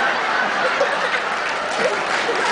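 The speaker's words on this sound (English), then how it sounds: "Let's have a round of applause for the silly question." Audience applause fills the room, with steady clapping mixed with some murmuring and chuckling, lasting the whole short stretch.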